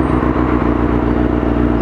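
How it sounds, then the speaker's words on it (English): A police motorcycle's engine drones loud and near in a rough, pulsing rumble on a city street, briefly and with no talking. "Ooh, motorcycle cop."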